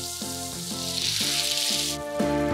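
Beer poured into a hot pan with potatoes and vegetables to deglaze sizzles in a loud, steady hiss, close up and continuous, while a musical backing with a steady beat plays underneath.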